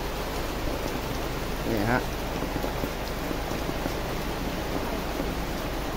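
Rain pours steadily at a roadside grilled sticky rice stall, a dense, even hiss of drops on surfaces filling the whole scene while someone briefly speaks over it.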